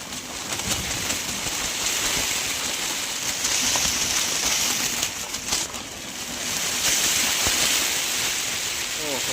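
Heavy rain pours down steadily over a farm field with a dense, hissing roar, gusting wind swelling it louder in the later stretch; a few faint bird coos underneath.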